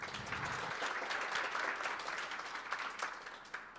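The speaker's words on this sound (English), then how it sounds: "giving a big round of applause to all our panelists" A steady, dense wash of audience applause for the panelists at a photography talk event, holding at an even level throughout.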